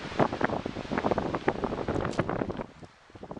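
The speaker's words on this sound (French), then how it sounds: "le son il doit être pourri là avec le vent" Wind buffets the microphone beside a carp fishing lake, giving loud irregular rumbling gusts and thumps that pulse unevenly and ease off near the end.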